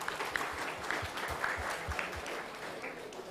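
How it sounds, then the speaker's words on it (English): Modest audience at a startup panel discussion claps for a final-year student, a soft, fairly faint patter of applause with a few heavier thumps, tapering slightly toward the end. "can we give a big round of applause to her?"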